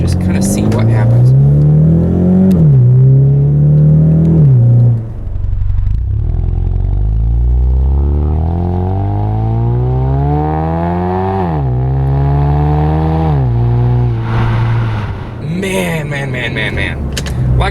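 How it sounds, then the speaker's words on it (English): A 2015 Ford Mustang EcoBoost with a manual gearbox, in Sport Plus mode, accelerates hard, its loud engine rising in pitch through the revs and dropping at each of several gear shifts, close by, with no talk. "we'll jump on the gas a little bit and just kind of see what happens"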